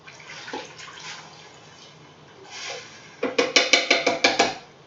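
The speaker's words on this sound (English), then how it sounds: "I'm going to go ahead and pour in my tomato sauce." Canned tomato sauce from a 29-ounce can is poured into a Crock-Pot of beef stew, with soft wet pouring first and then a quick run of loud, close, rhythmic glugs near the end.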